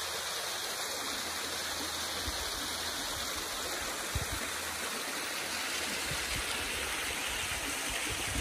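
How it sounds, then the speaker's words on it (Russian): Water rushes and splashes continuously down a canyon in the Blue Mountains near Govett Leap lookout, a broad steady roar like a stream tumbling down rocks, with no voices. "Вода течет отовсюду"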